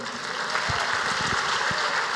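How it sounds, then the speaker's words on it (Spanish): A church congregation applauding, a dense, continuous wash of many hands clapping together at moderate loudness for a couple of seconds. "¿Cuántos pueden darle un aplauso al Señor?"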